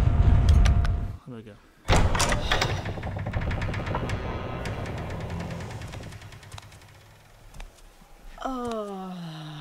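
In the horror video game Haunting Ground, a door opens with a loud mechanical rumble and grinding clatter that carries on for several seconds before fading into a rising tone.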